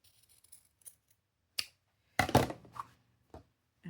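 Scissors trim a sewn diagonal fabric corner in a few quiet, close snips, with a longer cutting burst in the middle and near silence between cuts.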